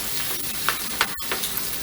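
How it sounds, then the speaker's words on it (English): Zucchini, sausage and green pepper fry in a skillet with a dense, steady sizzle and scattered crackles and pops, close and fairly loud with no talking. "it is frying up pretty nicely"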